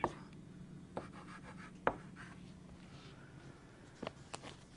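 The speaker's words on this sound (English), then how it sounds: "I'm going to write these over here." Handwriting in a chemistry problem-solving session, soft scratchy pen or chalk strokes with a few sharper taps, quiet and close against a faint steady background hum, no one talking.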